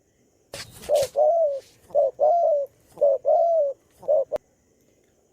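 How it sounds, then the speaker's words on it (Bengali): A dove calls from a tree in three repeated phrases of soft, hollow coos, each a short note followed by a longer one, clear and close with a few rustling clicks at the start. "ঘুঘু পাখি ডাকছে গাছে"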